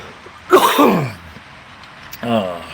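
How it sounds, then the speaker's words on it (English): A couple of short, rough coughs or throat-clearing bursts, close to the microphone, separated by a pause. "You have to excuse my coughing here."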